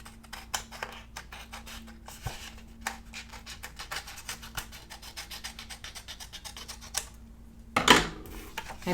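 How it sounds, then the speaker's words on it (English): Scissors trimming excess paper from a planner page, a run of quick crisp snips and rustles close by, ending in a louder paper crinkle. "Now I'm going to take my scissors and cut along here."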